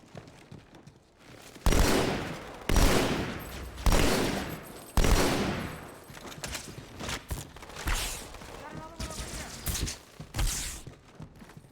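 Heavy gunfire in Halo 2, with loud bursts and volleys of shots from above, broken by short gaps and followed by a denser, busier stretch of firing and impacts.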